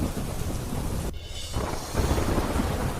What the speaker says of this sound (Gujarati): સાપુતારા, વઘઈ, સુબીરમાં ધોધમાર વરસાદ